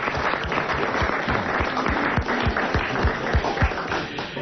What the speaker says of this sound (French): Voilà, applaudissements mérités pour madame Douchy.